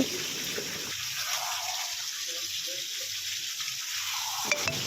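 Chicken is sautéed in a pan with a constant, fairly loud frying hiss that holds steady the whole time. Faint background music sits beneath it.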